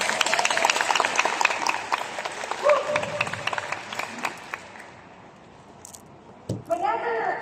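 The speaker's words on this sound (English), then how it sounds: "Could you please give Reway a round of applause?" An audience at a Riway business talk claps in a dense burst for about five seconds, then the applause fades out, followed by a few scattered knocks and a voice.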